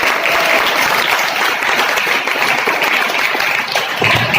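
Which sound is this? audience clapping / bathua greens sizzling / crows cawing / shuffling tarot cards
audience clapping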